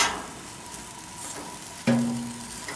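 Baby purple eggplant grilling over heat, giving a soft, steady sizzle and faint crackle, with a sharper clack near the end followed by a brief tonal ring.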